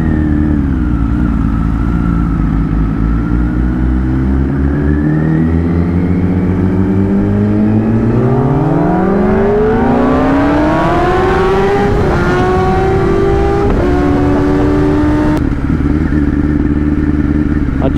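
A Kawasaki Ninja ZX10R sport motorcycle engine while riding, loud and close, climbing steadily through the revs in a long rising whine, shifting and climbing again, with heavy wind rush and no voices.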